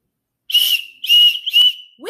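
Three sharp, bright whistle blasts in quick succession, loud and close, followed by a short rising tone at the end.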